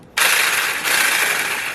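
An electric whisk on its slowest speed churns banana pudding, kicking in suddenly as a loud, close, steady buzzing whir that holds without a break.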